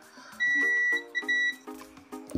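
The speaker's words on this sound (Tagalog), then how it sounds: "Yan, buzzer check." A Baron digital TV box's electronic buzzer gives a sharp beep, holds for about half a second, then repeats in short bursts, loud and close, with no talking.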